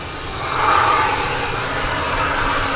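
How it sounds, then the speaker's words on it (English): An American Airlines Airbus A319 airliner arriving at Dallas/Fort Worth airport on a foggy morning, a steady broadband roar of jet engines that swells briefly then holds at a moderate distance. "The sound you hear is the arrival of American 1141 from Morelia, an Airbus A319."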